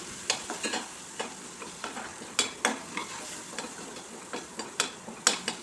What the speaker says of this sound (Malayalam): നല്ല ബ്രൗൺ കളർ ആയതിനു ശേഷം നമുക്കിതിലേക്ക് ചോപ്പ് ചെയ്ത സവാള ഇട്ട് കൊടുക്കാവേ